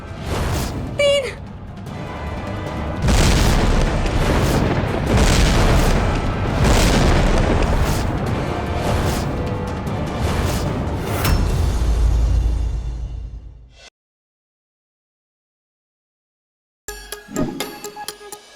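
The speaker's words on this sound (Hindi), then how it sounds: "ये तो बम है।" A bomb blast in a Hindi TV drama serial: a loud, rumbling boom fills several seconds with roaring decay, then cuts abruptly to silence before a brief clatter returns.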